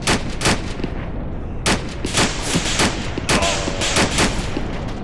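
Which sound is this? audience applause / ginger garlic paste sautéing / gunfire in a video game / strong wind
gunfire in a video game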